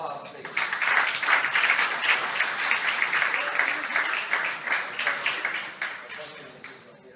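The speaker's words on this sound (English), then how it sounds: "please give her a good round of applause, please." An audience at an annual foundation meeting and fundraising event applauds in a sustained round of clapping that stays fairly loud for several seconds, then begins to fade near the end.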